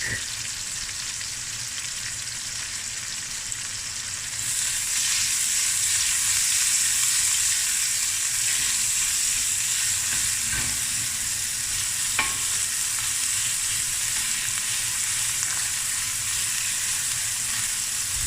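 Rice and prawns frying in a pan with paprika, lemon zest and lemon juice, giving a steady close sizzle that grows louder partway through, with occasional stirring scrapes.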